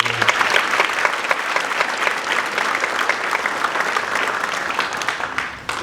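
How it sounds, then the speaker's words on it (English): A middle school winter band concert audience applauds a soloist, with steady, dense clapping from a sizable crowd that carries on evenly for several seconds before tapering at the end. "So we're going to give her a round of applause for her."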